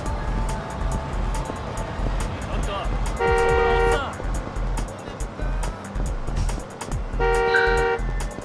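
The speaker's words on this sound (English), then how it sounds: "stop honking at me" Car horn in the video game Yakuza 5 honks in two sustained blasts over busy city street ambience, loud and close, with someone talking over it.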